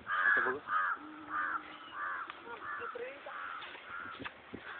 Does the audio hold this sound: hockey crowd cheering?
no